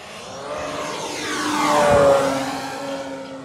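A 1600mm PT-17 Stearman model biplane, electric powered, makes a flyby, its whine rising as it closes in, peaking with a pitch drop near the middle, then fading away against a quiet outdoor background.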